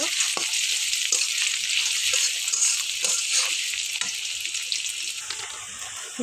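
Kochur loti, taro stolons, fry in a pan with browned onion and garlic, giving a bright, continuous sizzle with soft stirring scrapes close by.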